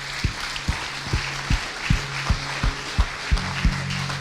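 A congregation at a Sunday church service applauds. Soft crowd clapping runs underneath steady, evenly spaced low thumps and sustained low tones that repeat about twice a second.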